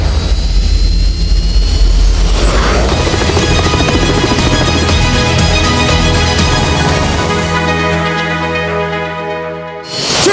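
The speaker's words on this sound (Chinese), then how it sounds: "这就是无人驾驶载人航空器" An unmanned passenger aerial vehicle flies over Luogang Park in Hefei, China, with a loud, steady, engine-like roar and hum that holds close for most of the clip before dropping away abruptly near the end.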